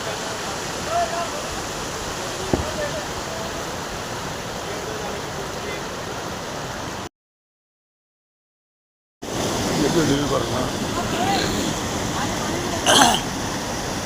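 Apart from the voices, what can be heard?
Jogini waterfall water flowing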